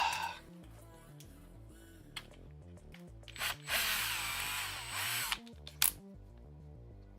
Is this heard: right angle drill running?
yes